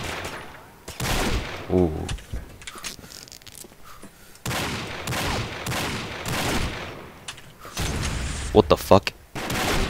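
Desert Eagle pistol fire in the shooter game Combat Arms, heard as repeated loud, sharp shots in bursts over battle noise. Someone speaks briefly between the shots.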